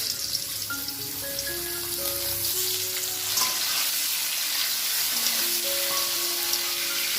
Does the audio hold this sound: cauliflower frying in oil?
yes